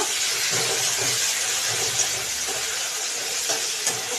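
Chopped tomato and green chillies hit frying onions in a pan for spicy mustard okra, giving a steady loud sizzle and hiss with faint stirring clinks and scrapes throughout.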